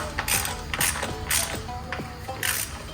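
Bolts are tightened to torque on a BMW M42 engine, giving a series of close ratcheting clicks in short bursts with small mechanical taps between them, quiet and with no talking.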